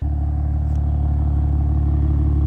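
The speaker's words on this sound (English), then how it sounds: "put the car back on the ground, start it again, and we'll see how it is" A car fitted with a Valvetronic Designs electronic exhaust valve controller runs after starting, giving a steady, close, deep exhaust rumble with a faint clatter, and no voices.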